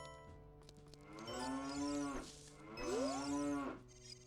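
Cows in the game Ocarina of Time give two long, low moos one after another, loud and close, alone against a soft steady background.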